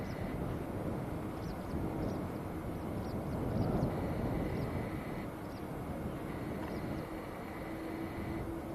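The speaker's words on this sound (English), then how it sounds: "There's more nice aircraft taxiing out" Jet airliners taxiing at Manchester Airport, a steady broadband engine rumble and whine holding throughout at moderate distance, with a faint sustained tone and no voices.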